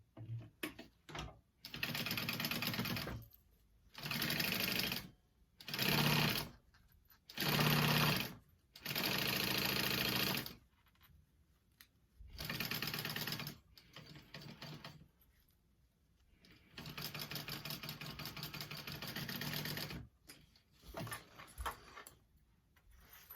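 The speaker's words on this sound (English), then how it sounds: "baste that down, starting at the 5/8 mark." A sewing machine bastes fabric for a backpack at the 5/8 mark, running in repeated bursts of whirring stitches broken by pauses, then a longer steadier run near the end, close and clear with no talking.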